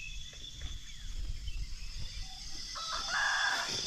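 A rooster crows outdoors on a trip into the forest, moderately distant, with low clucking and rustling around it and no talking.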